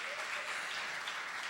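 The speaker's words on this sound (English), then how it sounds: "keep your hands clapping" Audience clapping at a Saturday morning community forum, a steady, even wash of applause from a crowd, continuous and fairly soft throughout.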